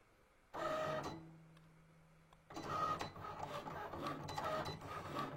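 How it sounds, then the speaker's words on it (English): A Cricut Explorer 3 cutting machine whirs and buzzes as it cuts, with a motor tone starting after a pause and then rapid, busy mechanical movement, fairly close. "the nice thing about the Cricut Explorer 3 is it cuts super fast"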